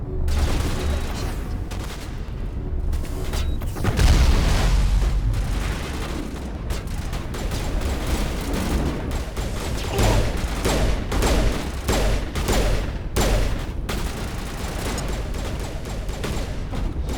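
Gunfire from a Mass Effect firefight, dense bursts of shots and heavy impacts crackling throughout amid mechanical clatter, loud and chaotic with no talk.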